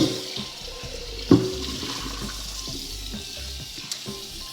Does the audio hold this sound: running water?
yes